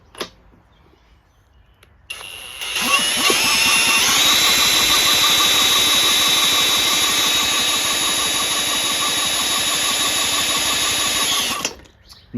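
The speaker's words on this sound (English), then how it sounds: "Got my drill." A handheld drill spins the crankshaft of a Kawasaki FC420V pull-start lawn engine, a loud steady whirring grind with rhythmic mechanical chatter lasting about nine seconds, starting and stopping abruptly.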